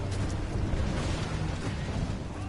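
Continuous heavy rumbling booms of ship cannon fire in the video game Assassin's Creed Black Flag, dense and loud throughout, with no gaps or voices.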